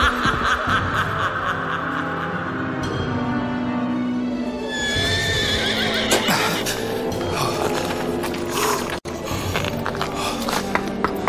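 A horse neighs and whinnies in a German vampire horror radio play, a loud sound effect over a layered, dramatic background that swells midway.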